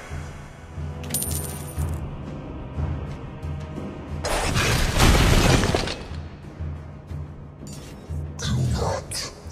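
Turret destruction in the Mobile Legends mobile game: a loud crashing, shattering burst around the middle, with game music and effects before and after.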